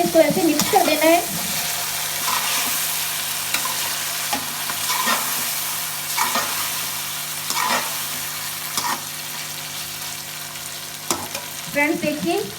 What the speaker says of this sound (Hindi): अच्छे तरीके से इसको ऐसे मिक्स कर देना है।